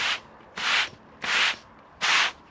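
A squeegee scrapes in four regular strokes across resin pointing in a patio's joints, each pass a close, loud, rough rasp separated by brief quiet.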